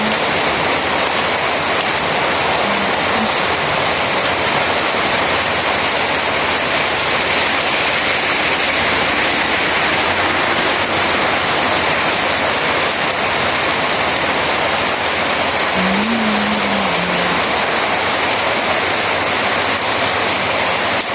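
Heavy rain roars steadily and loudly throughout, a dense unbroken wash of noise with no voices.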